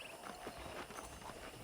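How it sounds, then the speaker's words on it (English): Horse hooves clip-clop in a steady, quiet rhythm in the Red Dead Redemption video game, a soft continuous gait with no voices over it. "I picked out a fine horse for you."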